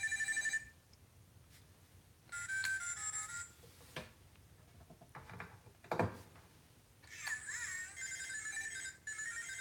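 Electronic cell phone ringtone from a parrot's toy phone plays in bursts, fairly close, breaking off into quieter gaps with bits of handling and clatter between the rings.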